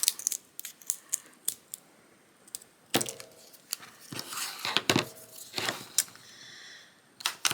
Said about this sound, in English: and then you could cut the two ends.